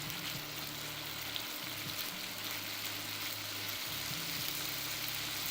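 A sandwich fries in a small pan over high heat, giving a steady, close broadband sizzle that runs unbroken throughout, with a faint low hum beneath and no talking.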